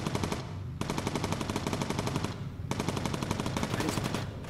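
Rapid machine gun fire from bombers' turrets in the video game Bomber Crew, loud sustained bursts of fast repeated shots with a brief pause between volleys.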